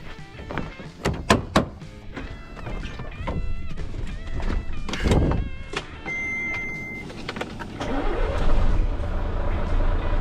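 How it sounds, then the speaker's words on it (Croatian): A truck engine cranking and starting, with a tipper hydraulic pump and a new 30-ton trailer nearby, preceded by clunks and thuds, then settling into a steady running rumble alongside metallic knocks. "pali kamion."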